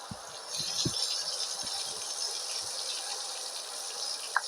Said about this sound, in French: Ok, je ferme la douche.